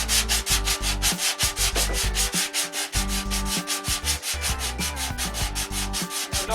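Spackle patch on a wall being sanded by hand, a steady, loud, rhythmic scraping with quick back-and-forth strokes and no voices.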